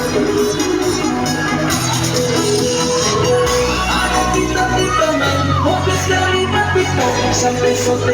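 A crowd cheers and claps for a primary school graduation ceremony of class VI pupils at SDK Santres Danga, a loud continuous roar with whoops and shouts over music playing throughout.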